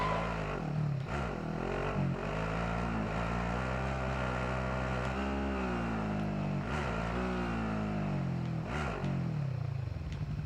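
A car engine drones steadily in Call of Duty: Warzone, holding a loud, continuous rumble with gear shifts and brief revving swells, with no talking over it.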